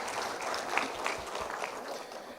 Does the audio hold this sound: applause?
yes